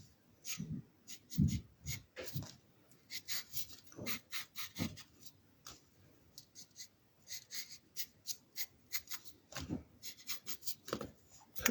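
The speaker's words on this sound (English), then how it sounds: "I'm just doing a little sketch of this nice plant." Pencil sketching a houseplant on paper, close and quiet: short scratchy strokes in irregular bursts with brief pauses, some longer rubbing passes, no talking.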